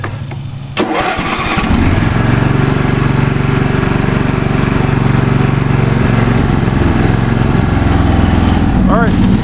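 A 2001 Huskee 46-inch lawn tractor engine turns over from cold, catching within a second and settling into a loud, steady, close running drone.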